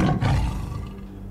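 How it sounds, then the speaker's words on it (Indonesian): A deep tiger roar, loud and close, dominating the first half second and then trailing off into a low sustained rumble with no talk over it. "Suara auman harimau diiringi sama suara gamelan"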